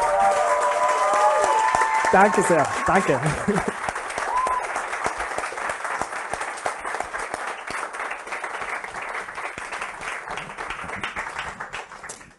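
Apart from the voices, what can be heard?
audience applause for an author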